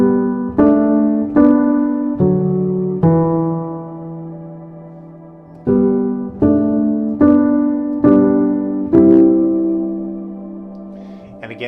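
Piano right-hand part from Manger Throne, a pattern of struck chords ringing out in two repeated phrases, each chord sustaining and fading before the next, close and solo.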